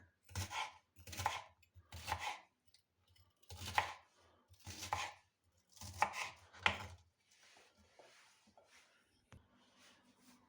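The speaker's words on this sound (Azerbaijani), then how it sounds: "Bu şəkildə samavari beləcə doğrayırıq bibarlarımızı." A knife chops bell peppers on a board in a home kitchen, sounding as close, crisp bursts of quick strokes separated by short pauses, followed by quieter handling and faint shuffling toward the end.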